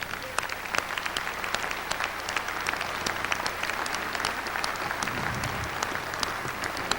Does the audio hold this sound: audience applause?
yes